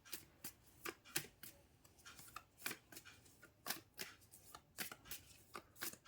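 Tarot cards are shuffled and drawn by hand, giving a quiet, close series of quick riffling bursts and soft card slaps in an irregular rhythm, with no talking.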